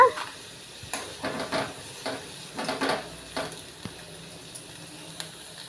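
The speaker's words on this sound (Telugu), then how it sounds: "కూడా వేసి ఎర్రగా వేయించుకోవాలి ఇవి ఇవి బాగా ఎర్రగా వేగాలన్నమాట" Curry leaves and onion pieces frying red in a tempering pan for urad dal rotti batter, a soft crackling sizzle with intermittent stirring clinks and scrapes, fairly close but low in level.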